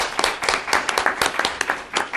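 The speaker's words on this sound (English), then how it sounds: "Again, applause for this person." Audience at a conference talk on Northeast Asia and Copenhagen climate issues breaks into brief, steady clapping, close and fairly loud for a couple of seconds.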